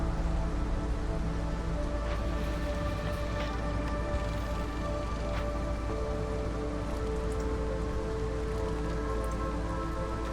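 Steady rainfall in the colony-building video game Against the Storm, a continuous soft patter of drops on surfaces over a low ambient hum, even and unbroken throughout with no voices.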